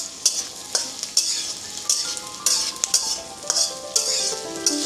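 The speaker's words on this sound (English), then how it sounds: "Once the onion is pinkish brown, we'll add bhendi into it, which we have already fried and kept aside." Pre-fried okra stirred into onions frying to pinkish brown in a pan, a steady sizzle broken by repeated sharp scrapes and clinks of a spatula against the pan, close up with no voices.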